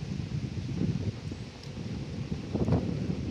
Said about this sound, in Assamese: পথাৰত খুব ধুনীয়া বতাহ মাৰি আছে।